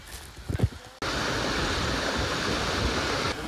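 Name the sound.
waterfall rushing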